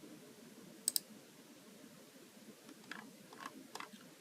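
Computer mouse clicks in a quiet room: a quick pair of crisp clicks early on, then several softer, scattered clicks and taps toward the end over a low background hum.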